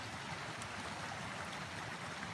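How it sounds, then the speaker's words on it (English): Spring creek in Potrero Canyon running full after heavy March rains, a steady, broad rushing and gurgling of water that fills the scene without pause and without voices. "The creek is quite noisy as we walk upstream."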